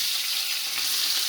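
About two spoonfuls of fennel seeds fry in hot oil, giving a steady, bright, close sizzle and hiss with no talk over it.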